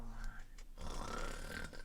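A voice imitates a bear snoring through hibernation, a faint rumbling snore drawn out in two rasping breaths.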